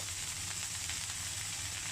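Constant bright sizzling of southern Thai curry paste stir-frying in hot oil in a wok, close and even, with faint scraping stirs underneath.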